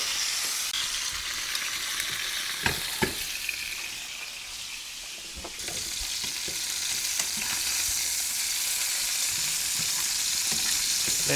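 Chicken pieces brown in a pan for a quick chicken curry, a steady, close sizzle with a few sharp clicks and taps early on, fading slightly midway then swelling louder, no voices.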